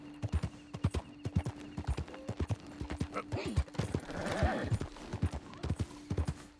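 Steady clip-clop of horse hooves at a walking rhythm in the video game Red Dead Redemption 2, close and clear, with a soft whinny partway through and a low hum underneath.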